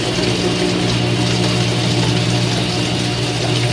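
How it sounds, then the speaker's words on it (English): An old direct drive washing machine runs with a loud, continuous mechanical whir and steady grinding hum, close and unbroken throughout. "That's what old direct drive washers do."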